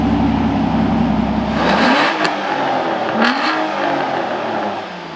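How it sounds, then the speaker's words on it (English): A car engine revving loudly inside a garage, a sustained rising roar that peaks and then drops back with a second shorter blip, close and alone without talk. "I probably shouldn't have revved the car right there"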